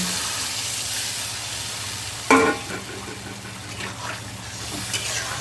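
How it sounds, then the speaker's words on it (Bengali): Water is poured into frying spice paste for a Bengali bhangor fish curry with potato, eggplant, pointed gourd and beans. Steady close sizzling is broken by a sharp splashing burst, then a softer, bubbling hiss continues. "মশলাটা ভালো করে কষানো হয়ে গেছে জল দেব"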